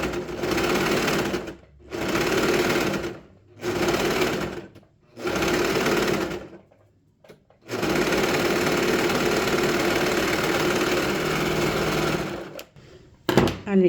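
A sewing machine stitches the neck collar of a knitted dog sweater in several quick bursts separated by short pauses, then runs one longer steady seam, close and clear.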